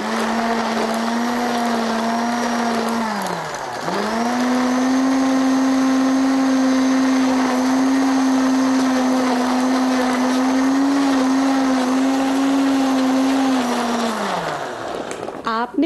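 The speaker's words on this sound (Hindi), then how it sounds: "इसको ब्लेंड ऐसे करना है जैसे बलाई मलाई की तरह बन जाए, हर चीज ब्लेंड हो जाए।" An electric blender runs loud and steady, blending watermelon with other home-remedy ingredients. The motor briefly dips in pitch and recovers near the start, then winds down at the end.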